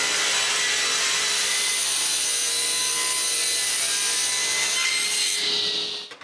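Oak moldings are ripped into thin strips on a power saw, giving a loud, continuous high-pitched whine of blade cutting wood that holds steady for several seconds, then winds down at the end.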